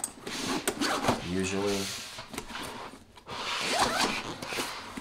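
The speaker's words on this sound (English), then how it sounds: "It zips open really easily" A side pocket zipper on a Peak Design Everyday Backpack is pulled open in one smooth, close rasping run, with someone talking before and after it.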